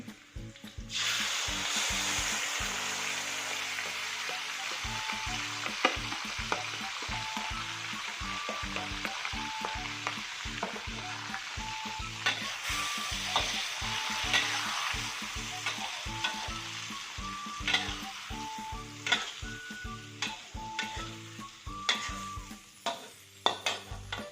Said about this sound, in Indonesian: Kalau udah mulai kecoklatan ini, kita masukkan ikannya.